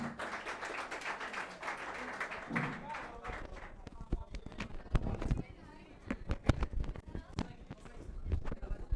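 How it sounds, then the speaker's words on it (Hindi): Audience at a teacher's day celebration at an institute clapping, applause starting dense and continuous, then thinning into scattered sharp individual claps toward the end, fairly close, with faint voices beneath. "कृपया ताली बजाइए"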